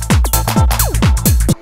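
A tightened, shortened open hi-hat sits in a funky minimal house drum loop with a UK garage feel, a short groove of punchy kicks and clipped hats with a quick pitched sweep, running loud and up close before cutting off.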